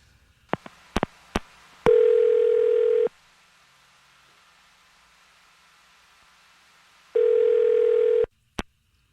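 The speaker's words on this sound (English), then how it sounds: "I'm going to dial her phone number right now" A telephone dial tone sounds twice, each steady tone lasting about a second, with sharp clicks and taps of keys being pressed around them while a phone number is dialed; no talking.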